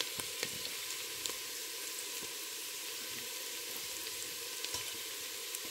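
Garlic fries in hot oil for Filipino chicken macaroni soup, with a steady close sizzle broken by small pops and crackles and no talking.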